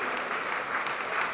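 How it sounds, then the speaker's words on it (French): Audience applauding team staff at a rugby squad presentation for Aviron Bayonnais, a steady dense patter of clapping sustained evenly through a brief stretch. "On peut les applaudir aussi"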